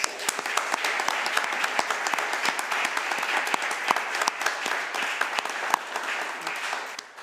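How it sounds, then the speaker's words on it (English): Audience at a town council meeting applauding to honor an award recipient, dense sustained clapping from many hands with sharp individual claps standing out, steady for several seconds before tapering at the end. "If we could all give him a round of applause."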